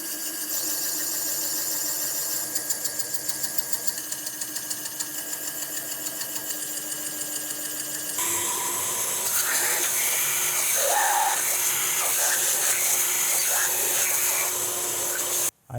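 Intake valve seats on an engine being cut with a seat-cutting tool, a steady whirring motor drone with a rapid rhythmic chatter that shifts to a harsher, brighter grinding partway through before cutting off abruptly.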